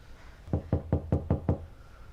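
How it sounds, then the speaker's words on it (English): Six evenly spaced knocks on a door, close and distinct, coming in a quick steady run with quiet before and after. "Guess we just knock."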